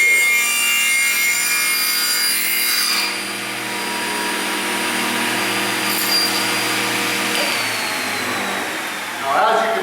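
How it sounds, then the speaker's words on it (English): A table saw rips steadily through a wooden picture frame corner held in a spline jig, the blade whining loudly and evenly with a brief shift in pitch as the cut finishes. "run the saw right through"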